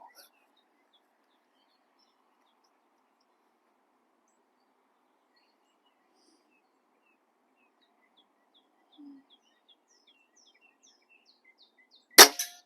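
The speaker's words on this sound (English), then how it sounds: "let me take the shot real quick. I got the gun loaded" A single sharp air gun shot cracks out near the end, loud and close against a quiet outdoor background with faint birdsong.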